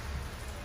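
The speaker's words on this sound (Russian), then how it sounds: "Дождик зарядил не по-детски." Steady rain pours down outdoors in a continuous, even hiss of drops hitting surfaces, fairly close and with no voices over it.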